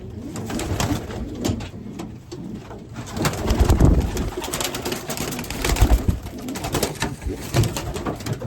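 Racing pigeons in a loft coo close by, with soft rustling and fluttering bursts mixed among their low, repeated calls.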